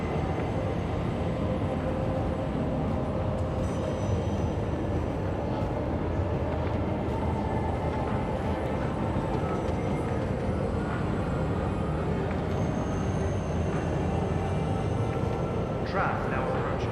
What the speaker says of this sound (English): Tram now approaching.